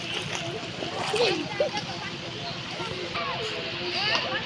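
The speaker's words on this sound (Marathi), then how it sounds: "इकडून पाणी येतं असं इथून पडतं" Water rushes and splashes steadily nearby while a person speaks over the continuous flow.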